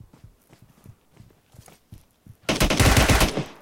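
Sustained burst of automatic gunfire in PUBG Mobile erupts loud and close after a stretch of soft, scattered in-game footsteps, continuing steadily to the end.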